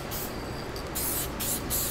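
Matte UV archival spray hisses from an aerosol can onto an alcohol ink artwork in several close, sustained bursts separated by short pauses.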